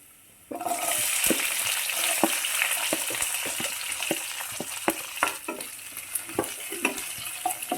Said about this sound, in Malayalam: വെളുത്തുള്ളിയുടെ ഒരു പച്ചമണം മാറിയതിന് ശേഷം ചുവന്നുള്ളി അരിഞ്ഞു വെച്ചത് ചേർക്കുകയാണ്.